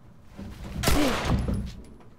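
A single gunshot in The Last of Us Remastered cracks out sharply, loud and close, then rings into a brief echoing tail over quiet background.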